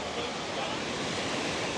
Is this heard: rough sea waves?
yes